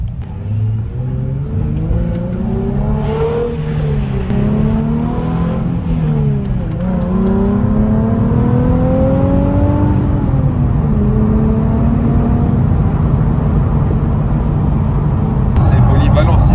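A Nissan 370Z Nismo's engine revs up and down repeatedly, its pitch rising and falling in sweeps. The engine is loud and close, with people talking over it.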